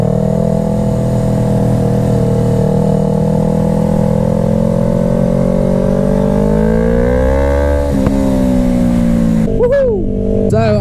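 At an airfield motorcycle event, a loud engine drone rises in pitch as bikes accelerate past nearby, followed by another engine revving up at the end.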